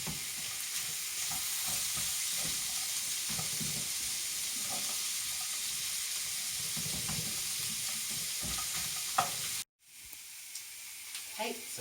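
Quorn chilli with chilli powder and mixed herbs frying in a pan while being stirred, a steady close sizzle with scraping spoon strokes, briefly cut off near the end before resuming.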